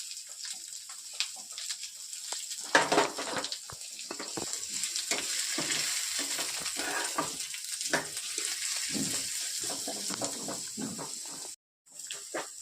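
Three large onions, finely chopped and turning reddish-brown, sizzle steadily in hot oil in a pan for palak paneer. Close stirring scrapes and clatters run through the sizzle before a brief drop to near silence just before the end.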